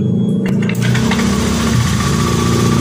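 Honda Scoopy scooter engine started after a double clutch lining replacement, a loud starter burst at the beginning that settles into a steady buzzing idle close to the microphone.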